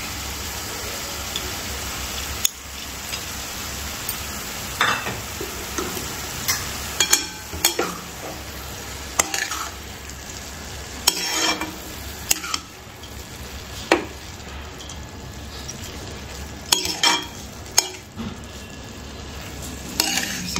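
Shepu (dill) greens and lentils are sautéed in a pan for a Maharashtrian bhaji. A continuous low sizzle runs under repeated sharp scrapes and clinks of a spatula against the pan, and there is no speech.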